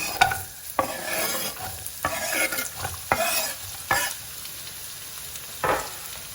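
Roughly chopped onions cook in a pan over medium heat, a steady sizzle broken by repeated scraping stirs at uneven intervals, close and clear with no talking.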